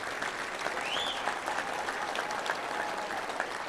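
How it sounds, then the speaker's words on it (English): An audience at a Little Rock Touchdown Club event claps for a football player, a steady, even round of applause from a room full of people that carries at moderate volume from start to finish. "So let's give a round of applause for Bumper Poole."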